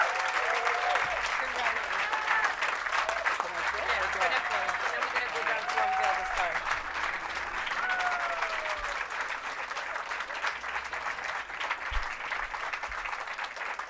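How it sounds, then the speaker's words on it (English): Crowd cheering and applauding at an outdoor Hollywood Walk of Fame star ceremony, continuous clapping with whoops and shouts at a steady level, fading slightly toward the end. "So continue cheering and join us in the celebration"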